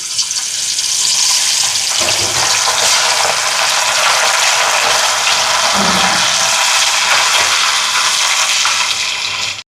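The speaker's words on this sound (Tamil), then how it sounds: "இப்போ மீனை பொரிக்க போடுவோம்." Fish fries in hot oil in a pan, a loud, close, continuous crackling sizzle that holds steady for several seconds before cutting off abruptly.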